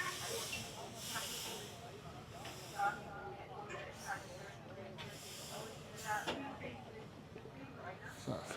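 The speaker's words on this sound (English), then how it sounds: "Building up heads of steam, I think is the phrase." Steam engines at Steamfest in Sheffield, Tasmania, hiss steadily at moderate distance, with several short louder bursts of venting steam over a broad crowd and outdoor background, people talking faintly throughout.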